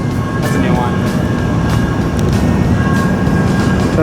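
A passing train, number 570 and a new model, gives a loud, steady rumble with thin squealing tones on top for the whole stretch, and faint voices may sit underneath.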